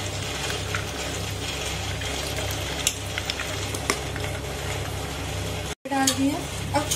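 Chickpeas for Punjabi chole go into hot frying masala in a pan and get stirred, a steady close sizzle with scraping spoon strokes and a brief clatter near the end.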